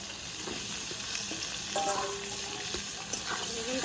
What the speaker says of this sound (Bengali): এবার বেগুনটাকে দিয়ে দিব তেলের মধ্যে বেগুনটা আগে থেকে কেটে ধুয়ে রেখেছি